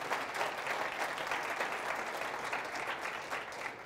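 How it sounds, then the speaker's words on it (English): A hall audience at a talk in St. Catharines, Ontario, claps in a steady, dense wash of applause, moderately distant and even throughout. "They deserve a huge round of applause."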